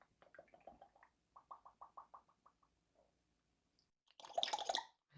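A parrot imitates a water drip noise, giving a quick rhythmic series of close, wet clicking and plopping sounds, a pause and one faint note, then a brief burst of louder splashy, gurgling noise toward the end.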